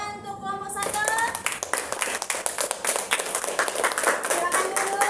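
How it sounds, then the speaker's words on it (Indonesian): A group claps together in a lively burst of applause, many hands close by, with children's voices chattering and calling out underneath. "Tepuk tangan untuk kelompok 1."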